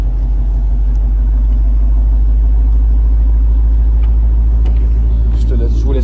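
A Shelby car engine running at a steady idle, giving a deep, continuous low rumble that stays loud and even from start to finish.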